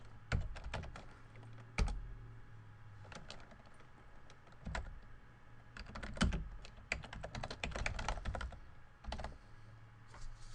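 Typing on a computer keyboard in short uneven bursts of clicks separated by pauses, with a few heavier key thumps, close and quiet, no voices.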